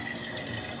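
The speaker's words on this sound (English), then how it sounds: "It's draining really well." Water runs steadily down a sink drain during a plumbing check on an eviction-turn rental, a constant close rushing, gurgling wash with no pauses and no voices.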